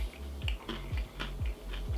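Close, rhythmic crunching as someone chews a crunchy homemade keto granola bar, about five bites with brief pauses between them.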